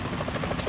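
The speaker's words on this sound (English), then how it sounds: "Is that a chopper I just heard?" Helicopter in Metal Gear Solid 2, a steady rotor drone with a low, pulsing chop that holds even and fairly loud throughout, with no voices over it.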